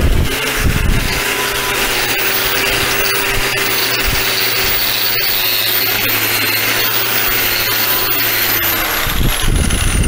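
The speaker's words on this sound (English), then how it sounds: "It's a knotted wire wheel for my grinder." An angle grinder fitted with a knotted wire wheel works on an MGB rubber bumper, a loud, steady, close whining and scouring sound that runs continuously for about ten seconds.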